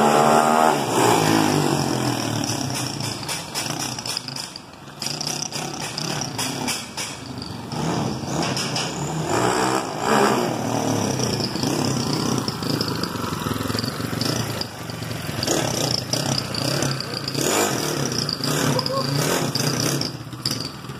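A rebuilt 248cc motorcycle engine, bored out from 70mm to 74mm, runs steadily close by with a buzzing, revving drone, while people talk over it.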